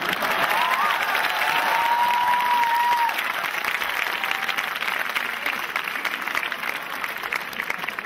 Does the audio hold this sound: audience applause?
yes